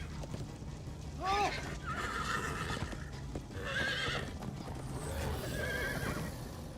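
Video game horses whinny repeatedly over a rumbling background of galloping hooves, with people talking at the same time.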